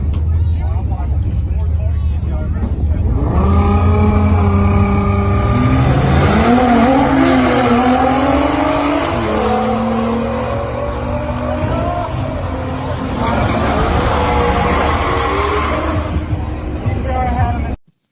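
A turbocharged Honda Civic races a GTR, with a loud rising engine roar through the gears, tire squeal and a second surge of revs, with crowd babble faintly underneath.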